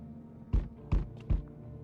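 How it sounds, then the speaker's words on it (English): Banging on a door in a video game set in a house on fire: three heavy, evenly spaced thuds with low booming body, close and loud, each ringing briefly over a quiet background hum. "who is banging on my door like that?"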